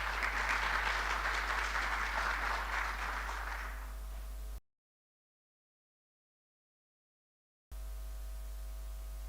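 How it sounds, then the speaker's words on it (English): Audience at a mental health organisation's annual general meeting applauding, steady clapping over a low electrical hum that fades out, followed by sudden silence and then only hum. "Please, again, a hand of applause to them."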